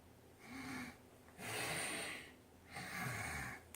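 Forceful breaths during a hip hinge exercise: three audible cycles of air drawn in and pushed out, close and fairly soft, each a rushing huff separated by brief pauses.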